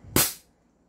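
An airsoft gun fires once during a chronograph test in a cool shop, giving a single sharp, close pop with a quick decay into silence.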